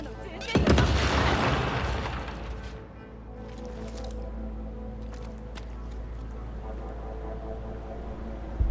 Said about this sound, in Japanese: おっと、いきなりなんか撃ってるな